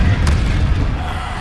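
A Bombarda blasting spell explodes in Hogwarts Legacy, a loud, close, deep boom that stays heavy and rumbling through the clip.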